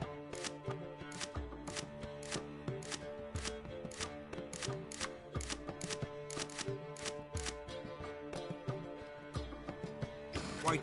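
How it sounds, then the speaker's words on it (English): Rhythmic chopping in a PS4 video game: steady, evenly spaced knife-like strikes over a looping game music bed, continuing throughout. "What are you chopping"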